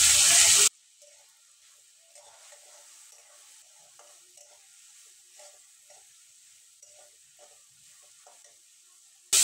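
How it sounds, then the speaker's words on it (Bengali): Yardlong beans and potatoes frying in oil with salt and turmeric, a soft steady sizzle with intermittent scraping stirs, quiet and close, bracketed by brief louder bursts at start and end. "বরবটি আর আলুটা আমি কিছুক্ষণ ভেজে নিয়েছি।"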